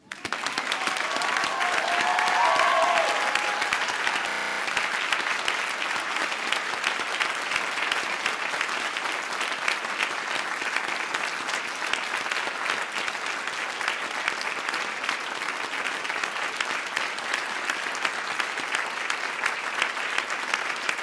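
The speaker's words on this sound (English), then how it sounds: "Please treat your friends and parents to thunderous ovations." Thunderous, sustained applause from an audience at a PhD graduation ceremony, dense steady clapping filling the hall for about twenty seconds with a faint cheer near the start.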